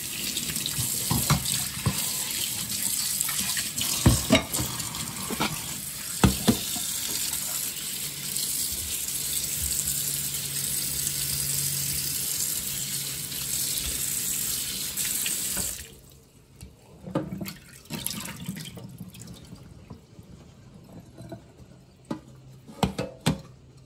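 Freshly harvested figs rinsed under a running kitchen tap, a steady close gush of water splashing over the fruit that cuts off partway, leaving quieter drips and small splashes.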